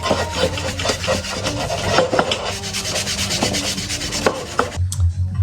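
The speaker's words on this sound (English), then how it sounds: "Let's give it a rub with emery cloth now." Emery cloth rubbed back and forth over a metal car part, a close, steady scratchy rasping in quick repeated strokes that stops abruptly near the end.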